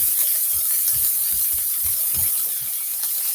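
Hamburger helper sautéing in a pan, a steady bright sizzle with periodic soft scraping stirs in a fairly even rhythm, close up and alone with no talking.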